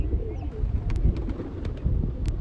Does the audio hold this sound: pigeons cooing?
yes